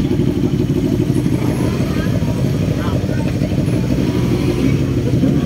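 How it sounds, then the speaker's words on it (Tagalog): Big 1000cc motorcycles rumble and rev steadily outside a roadside pares eatery, a loud, continuous engine drone that fills the whole stretch while people talk over it. "Ganda ng mga motor nila oh."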